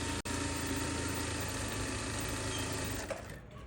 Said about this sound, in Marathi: असं लेसवरती आपण फक्त शिलाई चालवत जायचं